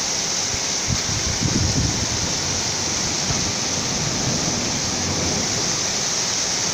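Heavy rain pours down during a severe thunderstorm over Marburg, a dense, steady hiss of falling water drumming on a roof, close and continuous without talk.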